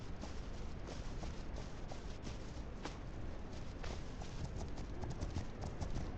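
Horse hooves clip-clopping at a steady walking pace in the video game The Legend of Khiimori, faint and even over a constant hiss-like background.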